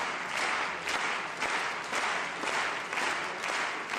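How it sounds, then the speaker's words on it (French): A large audience applauds steadily, and the clapping settles into a regular pulsing rhythm of synchronized claps roughly twice per second, loud and continuous throughout. "on voit clairement apparaître, ici, le moment où les applaudissements se synchronisent"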